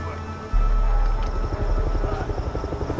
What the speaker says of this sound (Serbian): Čuje neki helikopter, brat.